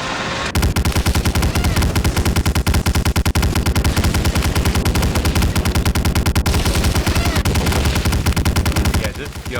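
Gunfire in the Medal of Honor Warchest video game: a long run of rapid, evenly spaced automatic shots, loud and continuous for several seconds before stopping abruptly.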